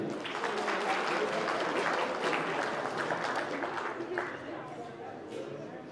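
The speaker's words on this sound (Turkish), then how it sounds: "Güzel gelinimize bir alkışlar gelsin" Sustained applause for the bride at a wedding, a crowd clapping densely and steadily before tapering slightly toward the end, with talk mixed faintly underneath.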